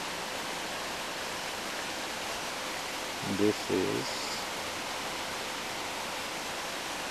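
Deer Creek near Nevada City: a constant rushing hiss of flowing water, steady and even, with a voice speaking briefly over it midway.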